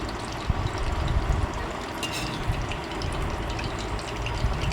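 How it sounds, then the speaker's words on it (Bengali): Batter-coated capsicum fritters deep-fry in hot oil, giving a dense, even bubbling hiss that fills the whole stretch with small crackling pops, loud and near. "এই দেখো ব্যাটারটা দিয়ে আমি এখন তেলে দিয়ে দিয়েছি, লাল লাল করে"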